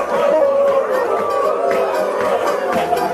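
A concert crowd at a string band show howls like hound dogs, a loud sustained wash of many voices imitating baying dogs over background chatter.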